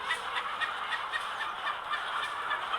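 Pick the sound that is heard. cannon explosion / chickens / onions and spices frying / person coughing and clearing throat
chickens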